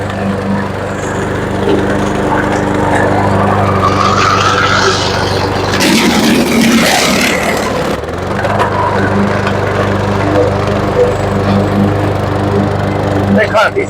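A new Toro push lawn mower engine drones loudly and steadily nearby, with a brief harsher surge as the load changes partway through and faint talk underneath.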